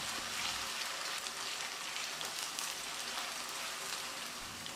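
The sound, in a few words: potatoes frying in hot oil after mustard seeds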